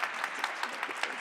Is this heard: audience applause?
yes